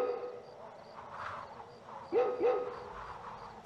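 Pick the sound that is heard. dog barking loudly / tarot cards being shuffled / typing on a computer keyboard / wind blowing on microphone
dog barking loudly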